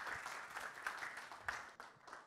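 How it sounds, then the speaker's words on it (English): Audience at a technology legislation workshop at a summit in Malta applauding a speaker: a soft, dense patter of many hands, moderately distant and fairly quiet, gradually thinning toward the end. "Another round of applause for Dr. Brünjes"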